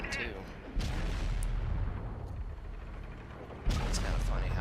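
World of Tanks Console cannon fire from a Chieftain Mk. 6 tank: two loud, booming shots roughly three seconds apart, each a sharp blast with a low rumbling tail, over a constant engine drone, with a voice talking in between.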